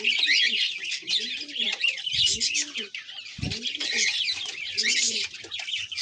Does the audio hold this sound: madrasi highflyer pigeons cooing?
yes